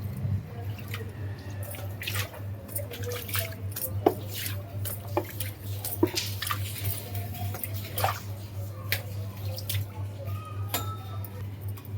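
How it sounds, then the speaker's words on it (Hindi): Water splashes and drips across a balcony floor being washed, with a steady low hum underneath and scattered sharp splashes and taps, fairly quiet and close. "आज मैं इसे अच्छे से धोऊंगी पानी से"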